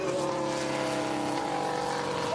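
An F1 car in F1 Manager 24 braking into turn nine at a 2029 China race, a steady high engine whine and tonal squeal sustained over about two seconds, faint and without talk.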